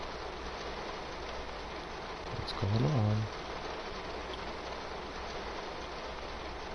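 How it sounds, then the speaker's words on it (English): Heavy rain pours down steadily across a car in a PS4 driving game, a dense constant hiss filling the scene while a voice speaks briefly over it. "This is really bad rain"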